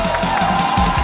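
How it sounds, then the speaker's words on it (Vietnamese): An audience cheering and clapping for the core members of a comedy troupe on stage, a loud, dense crowd roar filling the short moment. "chúng ta hãy cùng dành một tràng vỗ tay để cho bốn thành viên chủ chốt của Hội quán Tiểu Lâm"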